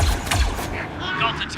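Gunfire in the Star Wars Zero Company video game: a short burst of clustered shots near the start, followed by mechanical clanks and whooshing effects, heard under a busy game soundscape.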